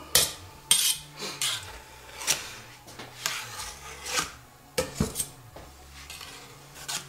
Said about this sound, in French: On prend une spatule, métal, et allez. On égalise tout ça.